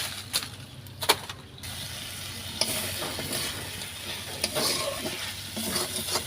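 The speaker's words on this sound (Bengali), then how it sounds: "তো এই মাংসটাকে আমি সুন্দর করে কষিয়ে নেব।" Pigeon meat sizzles and fries in a pan over a clay stove, with a spoon stirring and scraping now and then, a soft steady crackle close by.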